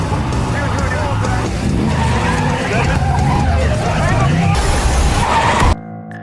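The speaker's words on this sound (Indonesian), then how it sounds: "Ketika melihat Kelly, Brett langsung menabraknya dan Kelly masuk kolong mobil." Car skidding with squealing tires and a crash as it runs a person over in a horror film, loud and sustained amid busy scene noise, then cutting off abruptly near the end.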